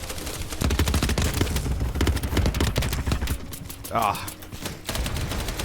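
Rapid bursts of automatic gunfire crackle through a BattleBit Remastered firefight, dense overlapping shots coming close and loud from one side, with a brief pause and a single grunt from a player voice.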